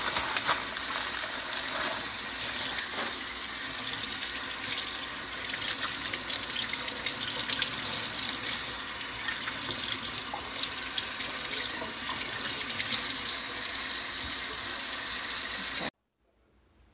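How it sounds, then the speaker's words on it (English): Tap water pours steadily into a kitchen sink while cured bacon is rinsed under it, a continuous hissing splash at even volume that cuts off suddenly near the end. "take it out of these bags and rinse it off and get it ready to go into the smoker"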